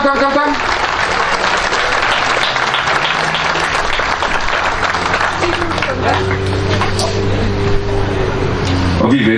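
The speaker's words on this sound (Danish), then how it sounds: "Giv lige et klap." A crowd at an outdoor youth event in a Danish park gives a girl coming up a sustained round of clapping, dense and steady throughout, with a low engine-like hum underneath near the end.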